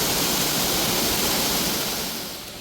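Large waterfall at Bird Paradise in Singapore, a dense, steady rush of falling water heard close and loud, fading a little toward the end, with no voices.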